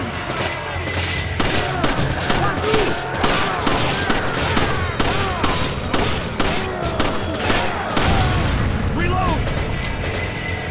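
Explosions and gunfire in the Resident Evil 5 video game, a loud, dense barrage of booms and rapid shots that continues throughout, with a voice talking over it.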